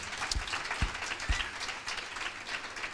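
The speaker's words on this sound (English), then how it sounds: "please join me in giving them a round of applause" Applause from a summit audience sounds as a soft, fairly distant patter of clapping, with a few sharper low thumps early on, and it holds steady for the short stretch.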